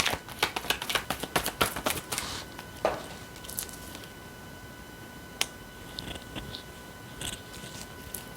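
Angel oracle cards shuffled by hand in a quick run of crisp riffling snaps, then sparser single card flicks and taps, close and fairly quiet with no talking.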